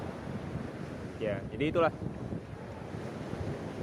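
Wind and surf at Nipah Beach in North Lombok form a steady, broad wash that fills the whole stretch, with a short burst of speech near the middle.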